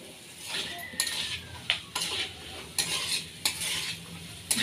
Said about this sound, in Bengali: এখন আমি এখানে বেগুন আর আলুটা দিয়ে দিচ্ছি।